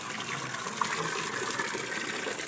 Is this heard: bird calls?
no